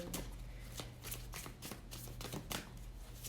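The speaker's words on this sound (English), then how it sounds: "I'm gonna shuffle one more time." Tarot cards being shuffled, a quick series of crisp riffling flutters and slaps, fairly quiet and close, with no talking.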